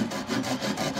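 Hand saw cutting timber for a wooden well cover restoration, close rhythmic rasping strokes in quick back-and-forth succession.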